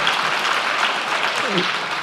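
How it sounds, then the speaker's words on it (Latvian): Applause from the audience at a panel discussion in Latvia fills the space evenly, with a brief voice rising faintly beneath the clapping near the end. "Aplausi, ļoti labi."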